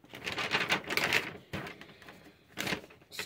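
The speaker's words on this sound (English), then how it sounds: "Excuse the rustling." Faint, close rustling and crinkling in a few quick bursts separated by short pauses, soft and papery.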